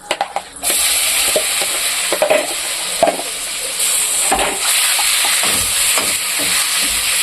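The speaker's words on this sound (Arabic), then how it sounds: "معانا حته زبده اهي، هننزل بالجمبري" Shrimp drop into melted butter in a pan and erupt into a loud, hissing sizzle that carries on steadily, with light clinks and stirring knocks scattered through, close up and without speech.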